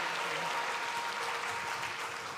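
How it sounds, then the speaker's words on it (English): Audience applause at the launch of a women and youth agribusiness entrepreneurship summit and expo, a dense steady wash of clapping that fills the whole moment without any talk. "make the clap louder"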